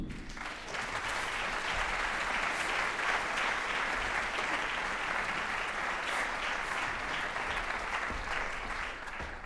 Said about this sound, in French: Merci d'accueillir, sous vos applaudissements, Élise Gignoux.